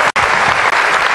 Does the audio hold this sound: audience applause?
yes